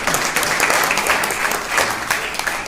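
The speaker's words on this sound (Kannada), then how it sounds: "ಬಹುಶಃ ಈ ಮಾತಿಗೆ ತಾವು ಚಪ್ಪಾಳೆ ತಟ್ಟೋದ್ರಲ್ಲಿ ಕಂಜೂಸಿ ಮಾಡಲ್ಲ" An audience at a 20th anniversary celebration of a Kannada monthly magazine in Bijapur breaks into steady, dense applause that holds at a moderate level throughout the short burst.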